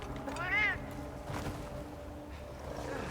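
Cats meow in Monster Hunter Wilds, one clear rising-and-falling meow near the start followed by softer calls, with ambient game sounds and brief voices in the background.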